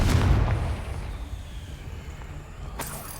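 A Confringo blasting spell in Hogwarts Legacy goes off as a loud close boom that fades into a low rumbling tail, followed by a faint sharp crack near the end.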